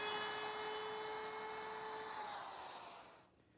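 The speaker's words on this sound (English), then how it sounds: "I'm going to use a 1/2 inch quarter round bit in my router with a guide bearing, which will ride against the edge" A router fitted with a half-inch quarter-round bit and guide bearing whines at high speed while rounding wood edges, then spins down and fades at the end.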